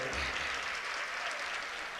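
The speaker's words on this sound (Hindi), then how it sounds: "एक बार इनके लिए जोरदार ताली बजाइए" Audience applause at a live nazm recitation in honour of guests from Howrah, Kolkata: dense, steady clapping from a crowd, sustained and fairly even throughout the short stretch.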